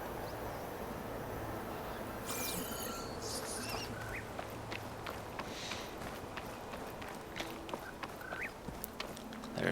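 Bird calls from the game Horizon Forbidden West, short squawks and chirps scattered over a dense bed of rushing ambient noise and game sounds, fairly faint within the mix; no talking.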